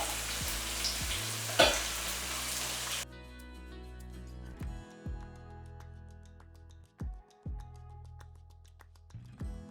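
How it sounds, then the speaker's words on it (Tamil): Two handfuls of small shallots go into a pan for a country chicken curry, with a loud, dense sizzle for about three seconds that then drops to a quieter frying with occasional stirring knocks. "இதில் ரெண்டு கைப்பிடி அளவுக்கு சின்ன வெங்காயம் சேர்த்து"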